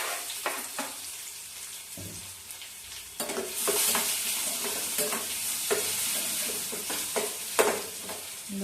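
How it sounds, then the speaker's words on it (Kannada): Chopped onions with ginger, garlic, curry leaves and green chillies fry in a pan, a constant crackling sizzle broken by scraping stir strokes that grow busier and louder partway through. "ಒಂಚೂರು ಫ್ರೈ ಆಗಲಿ"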